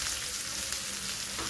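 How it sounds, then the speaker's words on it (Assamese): Onions frying in oil rendered from fish belly, with a dense, steady sizzle close to the pan, faint stirring and no voices. "অলপ তেলতেই মই পিঁয়াজখিনি প্ৰথমতে দি"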